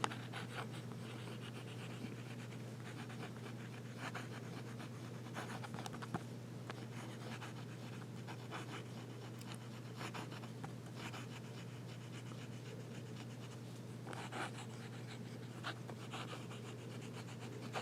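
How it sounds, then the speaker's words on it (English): A Platignum fountain pen writes on paper, close and faint, with soft scratching strokes coming in short repeated bursts over a low steady hum. "Reverse writing."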